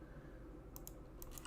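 Computer keyboard keys clatter during a C# coding session, a few quick sharp clicks in small bursts late in the clip over a low steady background hum.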